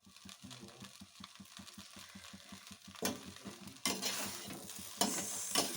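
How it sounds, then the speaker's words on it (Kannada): Pieces of masala idli frying in hot oil, a steady sizzle with rhythmic stirring scrapes, growing louder and brighter as more pieces hit the pan. "ಈಗ ನಾನು ಏನು ಇಡ್ಲಿನ ಫ್ರೈ ಮಾಡ್ಕೊಂಡಿದ್ದೆ ಅದನ್ನು ನಾನು ಇದಕ್ಕೆ ಹಾಕ್ತಾ ಇದ್ದೀನಿ. ಹೀಗೆ ಸ್ವಲ್ಪ ಹೊತ್ತು ಫ್ರೈ ಮಾಡ್ಕೊಳ್ಳೋಣ."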